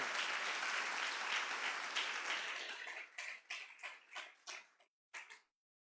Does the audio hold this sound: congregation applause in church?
yes